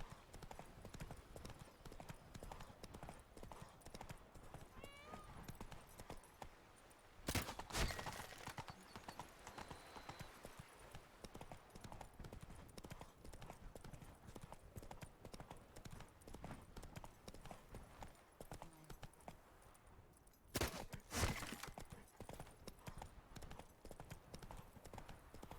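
Roach, a horse in The Witcher 3, clip-clops steadily at a walk throughout, with louder bursts of hoofbeats standing out twice along the way.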